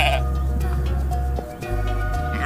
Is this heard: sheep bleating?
yes